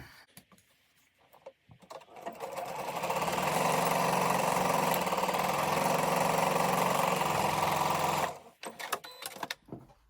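A sewing machine stitches down a quilt block for a card trick pattern, a steady close whirring run that starts after a few light handling sounds, holds for about six seconds, then stops abruptly into a few faint clicks.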